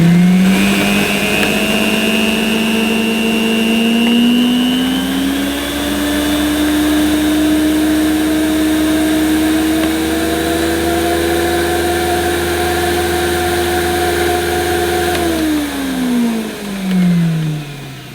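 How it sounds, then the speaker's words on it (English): A vintage 1980s Electrolux Electronic 612 upright vacuum cleaner runs steadily and loud, its motor whine climbing in pitch as it steps up through speed settings, holding high, then winding down near the end. "I'm going to put it on low, medium, and then boost, and we'll just see where the needle ends up."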